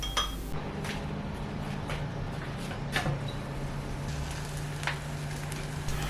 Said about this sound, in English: Put the lid back on and cook for another 5 minutes.